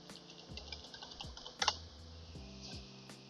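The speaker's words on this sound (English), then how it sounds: "Type password." Keys clatter on a computer keyboard while a password is typed to sign in as administrator during domain controller setup, a series of quiet, irregular clicks with a brief louder burst midway, no talking.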